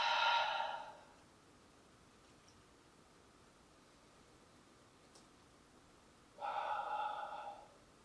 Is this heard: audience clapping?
no